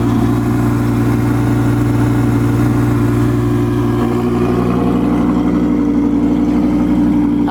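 An Audi R8 V10 engine running at a steady, deep idle at a winter car meet, loud and close, with a slight change in tone partway through but no sharp revving.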